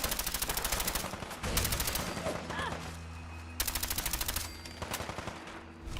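Bursts of automatic gunfire from Gunner raiders in Fallout 4 rattle in rapid sustained volleys, loud and dense, pausing briefly before resuming with continued shots.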